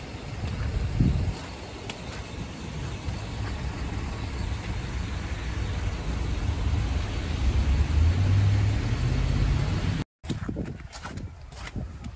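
Traffic crawling slowly along a snowy, slippery road in Tokyo during heavy snowfall, a steady low engine and road rumble close by that holds throughout before cutting out briefly near the end, with no talk.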